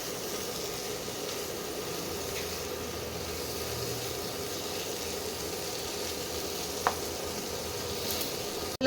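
Butter garlic prawns sizzle steadily in a pan, a constant close hiss of frying butter with faint stirring scrapes and one brief clink near the end, no voices.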